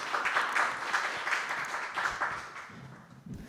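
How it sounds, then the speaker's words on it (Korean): An audience at an education policy forum applauds to welcome a presenter, a dense burst of clapping that swells, then thins out toward the end. "힘찬 박수로 맞이해 주시기 바랍니다"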